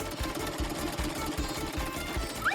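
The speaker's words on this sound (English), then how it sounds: "My sewing machine is always there for me." A sewing machine runs steadily, its needle thumping in a fast, even rhythm. The sound is close but fairly quiet, with no talking.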